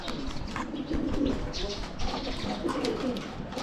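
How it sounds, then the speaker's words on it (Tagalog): Pigeons cooing nearby in an outdoor spot in Taiwan, soft throaty coos repeating over steady background noise, with a brief flutter of wings. "Daming kalapati dito."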